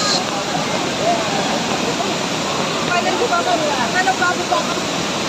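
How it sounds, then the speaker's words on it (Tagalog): Taytay Falls in Majayjay, Laguna pours down with a loud, constant rushing roar heard close up, an unbroken wash of falling water. "Yan, ito po yung falls."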